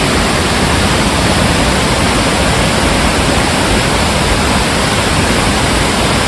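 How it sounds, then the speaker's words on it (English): Water pouring over the weir of a dam on the River Dane, heard as a loud, steady, dense roar that stays unchanged throughout. "here's the dam with the weir flowing beautifully"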